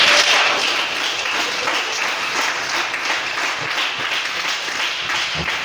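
A congregation at a French-language church service bursts into loud, dense applause acclaiming the King of Kings, many hands clapping steadily and evenly throughout, close and sustained with no pause.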